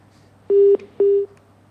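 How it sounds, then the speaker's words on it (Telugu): A telephone line sounds two loud, steady electronic beeps in a row with a short gap between them as a call cuts off during a studio phone-in, with quiet background and no talking. "ఫోన్ కట్ అయినట్టుంది"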